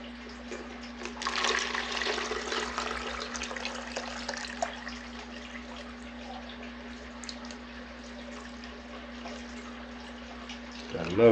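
Clean water being poured for aquarium plants, a steady soft splashing stream that swells near the start and then runs on evenly at low level for about ten seconds.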